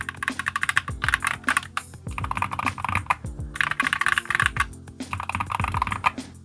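A GMMK mechanical keyboard being typed on up close, a quick, uneven stream of clacky keystrokes in bursts with short pauses between them.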